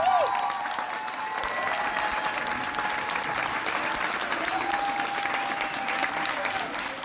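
Theatre audience applauding a play, a dense, sustained burst of clapping that carries steadily from start to finish with a faint crowd murmur.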